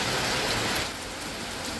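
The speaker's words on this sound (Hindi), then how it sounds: "भाई साहब देखते ही देखते बारिश की रफ्तार बहुत ज्यादा बढ़ गई भाई।" Heavy rain pours down in a village, a dense, continuous hiss of drops drumming on surfaces that eases slightly partway through, close and loud with no speech.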